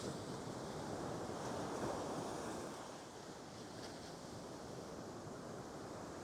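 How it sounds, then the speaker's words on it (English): Choppy wind-swell ocean surf with steady wind noise buffeting the microphone, a continuous broad wash of breaking water that dips slightly midway, with no voices. "now we have the opportunity to get ourselves out here in this nice choppy water. This wind swell is crazy."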